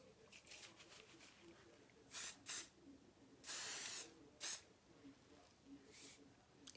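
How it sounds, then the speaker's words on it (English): A can of Scared Stiff hairspray is sprayed close by. Several sharp hissing bursts of varying length include one longer sustained spray, set against a soft background hum with speech around them. "It's very strong spray"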